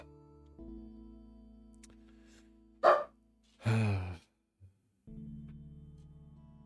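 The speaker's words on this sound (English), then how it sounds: "I'm being barked at already?" A dog gives two short barks, close and fairly loud, between stretches of quiet room hum.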